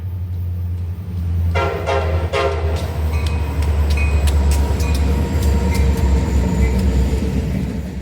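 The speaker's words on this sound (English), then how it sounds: "giving me a couple taps on the horn as he passed" A southbound mixed freight train rumbles past on the main line with a steady heavy roar, and two short horn blasts sound early on as it goes by.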